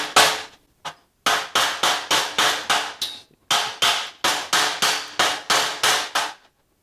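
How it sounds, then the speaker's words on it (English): Rapid series of sharp hammer blows knocking slag off plasma-cut steel, about fifteen hits in quick rhythmic bursts with short pauses, loud and close. "You can just smack on this slag that hangs off here"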